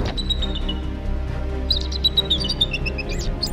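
A small bird in an animated 3D folk tale chirps with a few thin, high tweets over a low musical backdrop, the calls growing busier toward the end.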